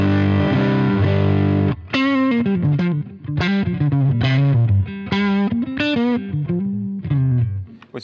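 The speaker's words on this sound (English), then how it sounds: "So if I engage the boost, which will add crunch, it sounds like this." Crunchy overdriven electric guitar through a BOSS Nextone amp with the boost engaged plays a lively riff of chords and single notes, loud and close, with gritty amp distortion.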